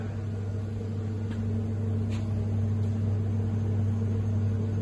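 An Ultrair electrostatic air filter runs in a steady, even electrical hum with a low drone and a faint hiss, a couple of soft ticks over it, holding constant throughout with no voices.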